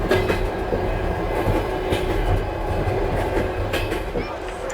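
Passenger train riding on rails in Uzbekistan, a steady loud rumble with rhythmic clickety-clack of wheels over joints and faint squeals, heard from inside the carriage with no talk.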